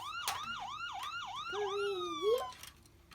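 A loud wailing ambulance siren in a video game sweeps up and down repeatedly, then shifts to a long rising wail near the end.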